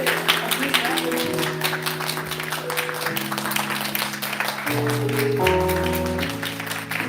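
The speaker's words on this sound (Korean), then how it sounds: "앞으로 모시고 박수로 모시겠습니다" A congregation at a campus Wednesday worship service applauds steadily for several seconds, the clapping blending with sustained instrumental music playing over it.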